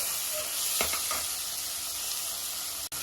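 Ingredients for Andhra-style chicken curry frying in a pan, giving a dense, even sizzle up close, broken by a couple of brief stirring scrapes early on.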